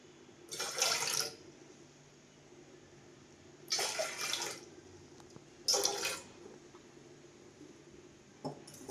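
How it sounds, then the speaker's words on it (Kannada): Water pours into a pot of milk for tea in three separate bursts, each lasting about half a second to a second, with quiet gaps between them. "ಆಮೇಲೆ ಸ್ವಲ್ಪ ನೀರು"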